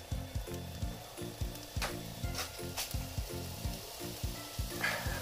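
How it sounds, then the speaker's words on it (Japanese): Food stir-fries in an oiled frying pan, a steady close sizzle with rhythmic scraping strokes of a utensil against the pan and a few brighter clinks. "フライパンに乗っけて今から炒めていきます"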